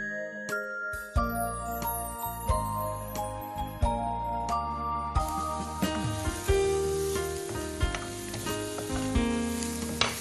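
Onion with salt fries in a pan with a continuous sizzle, while repeated metallic clinks and taps of a utensil against the pan sound close by.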